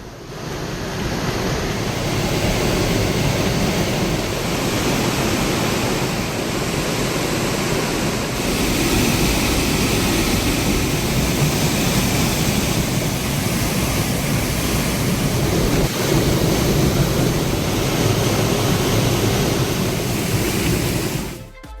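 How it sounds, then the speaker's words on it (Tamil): A waterfall swollen by heavy rain roars in a steady, loud, unbroken rush of water that carries on without pause and with no voices. "மழையால் அருவியில் வெள்ளப்பெருக்கு ஏற்பட்டு நீர் ஆர்ப்பரித்து கொட்டுகிறது"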